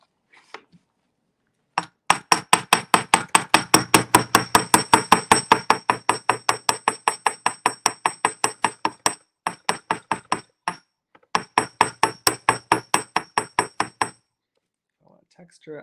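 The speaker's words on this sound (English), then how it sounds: "Our goal is to hammer this until very flat." Rapid, steady hammer blows flatten a small jewelry piece for top-drilled Czech glass designs, dozens of sharp metallic strikes in an even rhythm with two brief pauses, loud and close.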